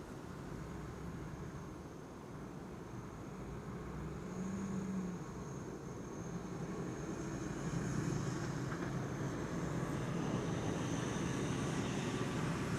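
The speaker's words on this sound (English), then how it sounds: "And it looks like another ETA is leaving from runway 18 left." A departing airliner rolls from runway 18L at Amsterdam Schiphol, a distant, steady jet rumble and roar that slowly builds over several seconds against faint background hum; no speech.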